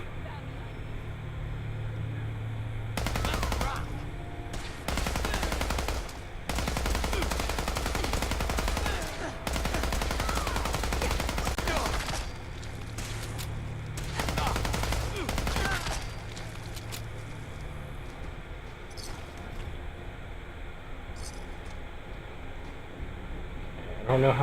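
Unsilenced gunfire in Fallout 4 comes in several loud sustained bursts of rapid automatic fire separated by short pauses, with a low engine-like rumble and game ambience underneath.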